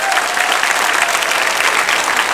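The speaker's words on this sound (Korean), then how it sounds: "박수만 치세요" Dense, steady applause from a church congregation during a Friday worship service, loud and continuous throughout with no voices over it.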